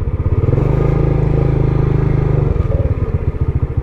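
A motorcycle idles and rumbles close by near a hanging bridge in Occidental Mindoro, its engine a loud, steady, chugging pulse that holds even, then shifts slightly as it moves off, with no talk over it.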